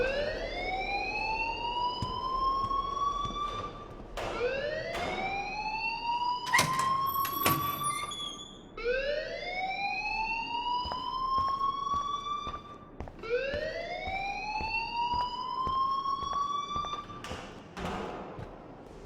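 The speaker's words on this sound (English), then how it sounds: "please turn off that alarm since that's your job" A fire alarm in the video game Life is Strange wails in four long rising sweeps, loud and steady, with sharp clicks and taps scattered between them and no speech.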